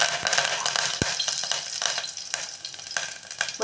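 Mustard seeds, cumin and curry leaves sizzle steadily in hot oil, with sharp popping crackles scattered throughout and one loud pop near the start, close and fairly loud with no talking.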